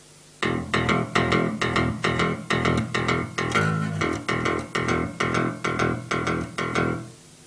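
Bass guitar picked with a plectrum in a fast, driving rhythm of evenly spaced, sharp-attacked notes, loud and close with no talking.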